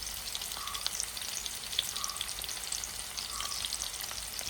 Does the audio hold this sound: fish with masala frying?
yes